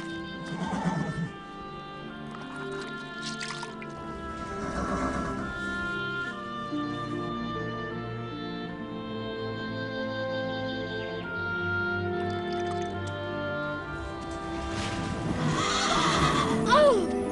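A horse named in a forest rescue scene neighs and whinnies, a faint drawn-out call under background music, with hoof clip-clop nearby.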